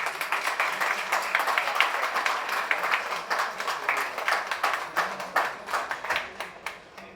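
Audience at a tribute event for soldiers' wives breaks into loud applause, a dense crowd of clapping hands with sharp individual claps standing out, swelling and then thinning into scattered rhythmic claps toward the end.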